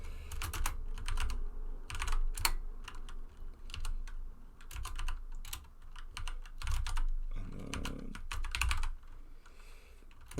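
Rapid typing on a computer keyboard while writing Python code for an FTP sniffer, with steady clusters of close, crisp key clicks and short pauses between bursts, no talking.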